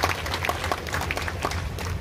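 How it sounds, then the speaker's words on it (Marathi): An audience at a public event claps steadily to welcome a speaker, dense even applause for about two seconds, loud and close with no pauses. "जरा जोरदार टाळ्या वाजवून आपण ताईंचं या ठिकाणी स्वागत करायचंय"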